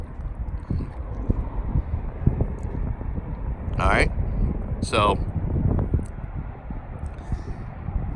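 Gusty wind buffets an outdoor microphone, a steady low rumble that swells and eases throughout while someone talks over it.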